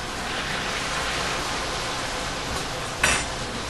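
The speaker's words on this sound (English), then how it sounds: "Pick it up and drop it right into the hot oil." Stuffed potatoes frying in hot oil, a steady broadband hiss and fine crackle up close, with a short clink of a utensil near the end and no speech.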